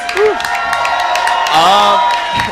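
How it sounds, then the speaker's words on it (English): A crowd at a speedrun event in Hawaii cheers and whoops with scattered clapping, bright shouts and tonal calls rising over a steady roar, fairly loud and close. "let's get a round of applause for Tofu for running Invictus"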